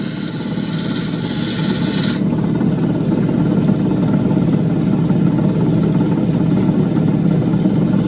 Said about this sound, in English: now we're down to the polishing wheel